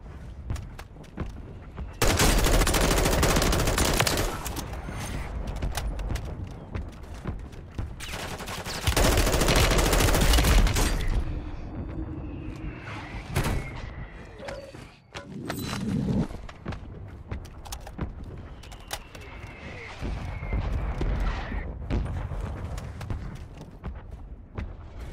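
AK rifle gunfire in a shooter game: two long, loud bursts of automatic fire, separated by quieter stretches of footsteps, scattered single shots and distant combat noise.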